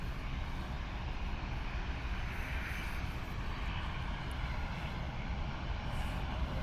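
Continuous propeller-engine drone from a Bombardier Dash 8 turboprop at Toronto's airport, a smooth, unbroken roar holding level for several seconds, with no talking.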